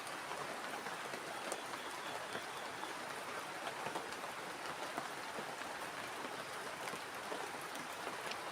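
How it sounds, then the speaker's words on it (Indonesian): Steady rain falls at night on a campsite, a dense even patter with scattered close drops hitting nearby surfaces, continuous and moderately loud with no voices. "ini hujannya bikin dingin banget"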